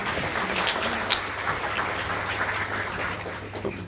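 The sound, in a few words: audience applause at a business lunch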